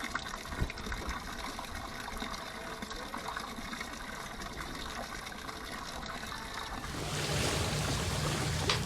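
Water pours and gurgles continuously as it drains from a boat's water tank, a close, steady trickle that swells into a louder rushing flow toward the end.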